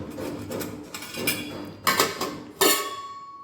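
Washed toor dal and pots being set into a pressure cooker, with a run of close metallic clinks and knocks, two sharper clanks standing out near the end, no talk.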